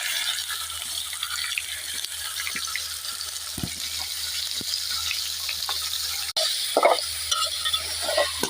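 Ginger fries in hot oil in a clay-coated pot on a wood-fired stove, a steady close hiss with a low hum underneath and a few soft clinks and a louder burst near the end.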